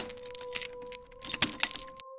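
A bunch of keys jangles as a sound effect in a horror audiobook, with irregular metallic clinks and shakes over a steady low hum. The jangling peaks near the end, then stops abruptly.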